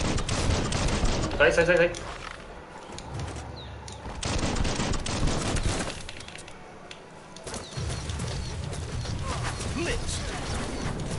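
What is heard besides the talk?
gunfire in the video game Biomutant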